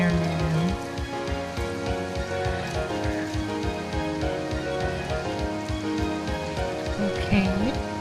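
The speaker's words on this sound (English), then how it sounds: "Oh yeah, it's getting heavier now. That rain's getting heavier now." Heavy rain pours down during a summer flood storm, a steady dense hiss running unbroken throughout, overlaid with sustained tonal sounds and some low thumps.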